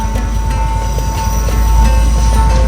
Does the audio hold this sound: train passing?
yes